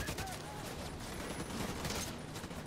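Gun turret firing in The Division 2 video game, a fast, dense burst of automatic gunfire heard fairly faint and continuous, with someone talking over it.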